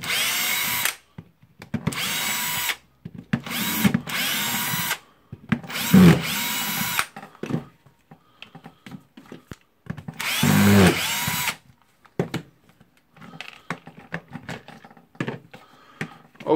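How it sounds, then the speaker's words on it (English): A cordless Bosch GSR 18V drill-driver runs in repeated short bursts, each a few seconds long with pauses between, as housing screws are backed out during disassembly. The whirring bursts are close and loud, with small clicks and handling noises in the gaps. "just unscrew the screws here to check what's inside the housing"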